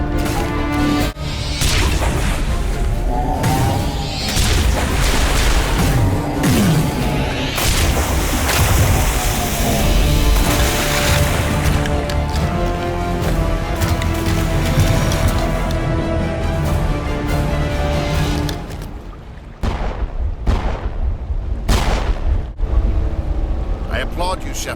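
Heavy suppressing gunfire and explosions in a Mass Effect battle: constant loud rattling fire, booms and crashes across a long stretch, with shouted voices in the middle of it and a few separate blasts near the end.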